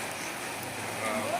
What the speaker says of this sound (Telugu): చాలా ఊటగా పడుతుంది.